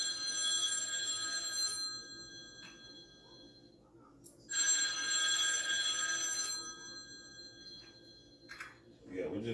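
A telephone rings in a kitchen where chicken wings are being prepared for an air fryer: two long trilling bursts separated by a short gap, fairly loud and close, with a quieter blip near the end.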